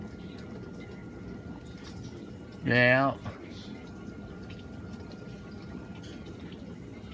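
A GE dishwasher fills with water, giving a steady, even rush and hiss throughout, with one short spoken word partway through.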